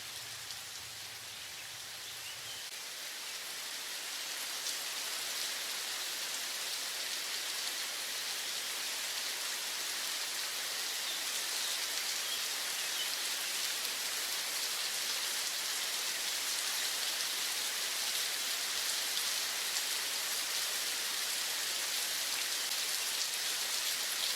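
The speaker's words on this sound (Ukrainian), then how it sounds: "А дощ ще сильніше йде." Steady rain pours down in a dense, even hiss that swells slightly louder after the first few seconds and continues unbroken with no voices.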